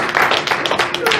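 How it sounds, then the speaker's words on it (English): A short burst of scattered audience clapping at a convention open mic, close and lively with a voice speaking over it. "Give a round of applause"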